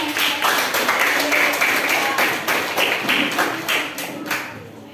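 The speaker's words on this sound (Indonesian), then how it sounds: "Tepuk tangan dulu untuk kelompok 5." Classroom of students clapping for a presenting group, a dense, steady patter of hand claps lasting several seconds, close and fairly loud, fading slightly toward the end.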